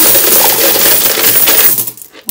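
Loose coins pouring out of a child's ATM piggy bank, a dense continuous metallic jingling cascade, loud and close, tapering off sharply at the end.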